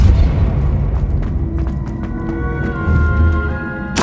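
A Depulso force spell fires in the Hogwarts Legacy game, a heavy low boom with scattered sharp magical zaps and pops over the full four seconds, closing on a bright crack.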